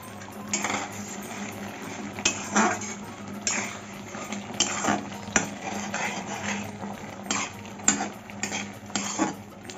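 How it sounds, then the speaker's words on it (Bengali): A metal spoon scrapes and clinks against a pan in irregular strokes while stirring fried spices into mango pickle, close by, with no talking. "এখন মশলাটা দিয়ে একটু নাড়িয়ে নামিয়ে নিচ্ছি"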